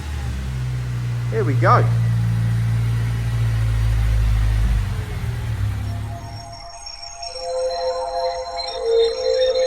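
A modified Honda Civic EP3 runs on a dyno with a low steady engine drone that fades out partway through, and someone speaks briefly over it.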